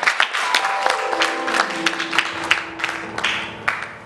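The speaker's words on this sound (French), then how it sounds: "On acclame encore le Seigneur." A church congregation applauds and acclaims the Lord, with a burst of crowd clapping and cheering, a sustained tone running underneath.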